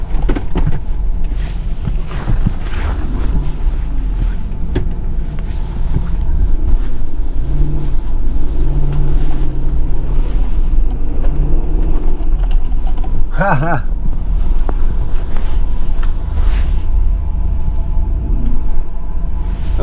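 A pickup struggling through deep snow during a heavy snowstorm, with a loud continuous engine drone and crunching, churning noise as it backs up, plus wind buffeting the microphone throughout.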